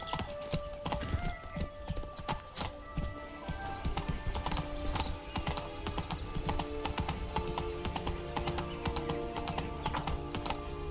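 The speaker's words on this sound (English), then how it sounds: "Whoa there, Roach" Galloping hooves of a horse in The Witcher 3, a steady rapid clip-clop running through the whole stretch with an occasional neigh, layered over game music and ambience.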